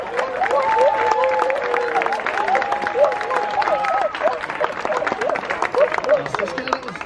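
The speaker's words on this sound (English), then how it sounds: "that was a big round of applause" A zoo seal show crowd claps and cheers for Cisco the sea lion, sustained applause with scattered whoops and children's shouts rising over the hubbub.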